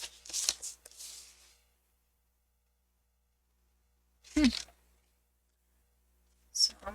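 Paper crafting at a desk: cardstock being cut and scored on a trimmer for a three-layer fun fold card, a couple of short dry scraping bursts separated by a long silence, close and fairly loud.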